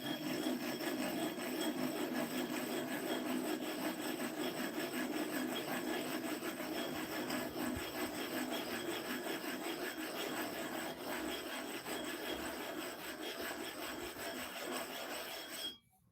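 Coarse barber's sharpening stone rubbed flat on sand spread over a flat metal bar, a continuous gritty scraping, steady and close, stopping abruptly at the end with no talk.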